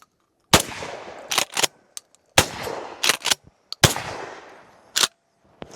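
A 9-inch PSA 570 short-barrel shotgun fitted with a JK Armament 195 SGX suppressor fires several loud, close blasts in an irregular sequence, each with a sharp crack and brief decaying tail.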